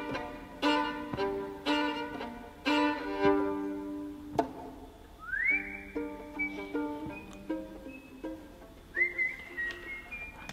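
A person whistles a musical cadence, clear tuned notes in short melodic phrases with a couple of sliding pitch rises, close and alone without talk.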